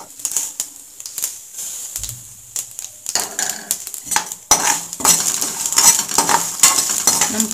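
Mustard seeds, cumin, chana dal and urad dal crackle and sizzle in hot oil for a vermicelli upma tempering, with sharp clicks and metal spoon scrapes against the pan that grow busier and louder toward the end.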